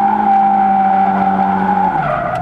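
A drifting car with a high-revving engine near 7500 rpm and a steady, loud tire squeal held while the driver counter-steers, the engine note dipping slightly near the end, with no talk.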